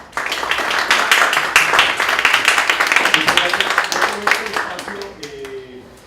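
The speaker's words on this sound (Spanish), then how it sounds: "le podemos dar un aplauso" Sustained audience clapping in an auditorium at a social projects funding event in Mexico, steady and fairly close, thinning out toward the end as a voice starts talking over it.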